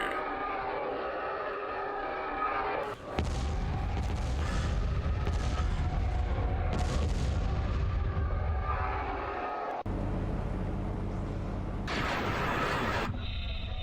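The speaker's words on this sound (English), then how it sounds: "Commencing bombing run." Explosions from a bombing run in the Star Wars Empire at War strategy game: heavy booming blasts and rumbling impacts strike in a few bursts over a continuous low battle drone, with no speech.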